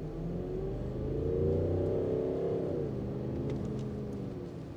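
A car engine revs and accelerates hard under load, a steady loud rumbling drone rising in pitch for about three seconds before easing slightly, with no voices.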